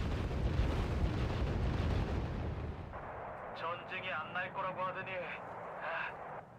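Tank cannon and battlefield fire in the video game Wargame: Red Dragon, with heavy rumbling booms during the first three seconds, then quieter, with someone talking over the later part.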